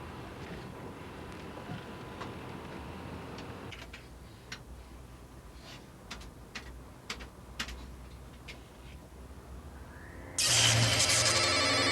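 A telephone being dialled inside a city phone box: a run of sharp, evenly spaced clicks and ticks over a steady background hum, followed near the end by a sudden loud, bright ringing burst.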